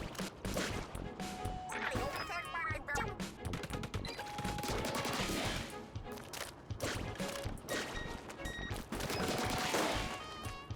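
Bombs explode amid rapid gunfire and crashes in the video game Splatoon Raiders, a dense, busy stream of repeated bursts and impacts running throughout, with music underneath.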